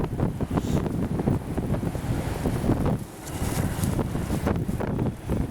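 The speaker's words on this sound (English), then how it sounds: "it's so windy right here" Strong wind buffets the microphone in heavy, uneven gusts, roaring outdoors with a brief lull midway before picking up again.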